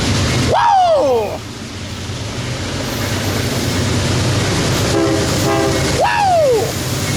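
An Amtrak train at Fullerton, its consist with no Tier 4 locomotive and putting out heavy smoke, rumbles past loudly and sounds two sweeping horn blasts near the start and end, with excited voices over the passing cars.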